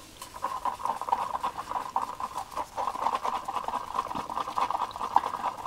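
White pigment being stirred into a small pot, giving a steady soft patter of scraping and clinking that stays close and continuous with no talk.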